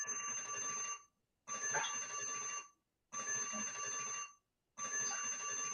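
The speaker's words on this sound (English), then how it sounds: "I hear the alarm, Mom." An alarm rings in repeated bursts of about a second and a half, separated by short silences, steady and fairly loud with a bright electronic tone.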